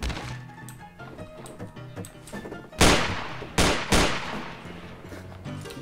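Gunfire in a Garry's Mod role-play match: a string of loud, sharp shots, three of them standing out as heavy cracks in quick succession, over busy game noise.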